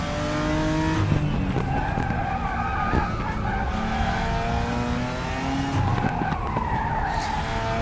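Sustained screeching squeal of race car tyres from a Porsche in the RaceRoom racing game, loud and continuous over a steady engine drone, with pitch sliding up and down as the car slides through corners.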